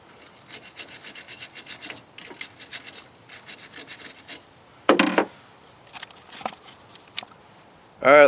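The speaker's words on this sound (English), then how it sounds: "scrub it with my wire brush there and get it all nice and shiny and clean" A wire brush scrubs an engine part from a 1994 Chevy 5.7 350 with quick, rhythmic, close rasping strokes. A few louder knocks and scrapes follow later.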